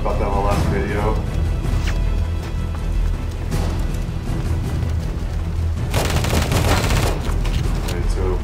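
Rapid SMG gunfire in the shooter game Afterpulse, loud bursts of shots with booms over a steady wash of game noise, heaviest toward the end.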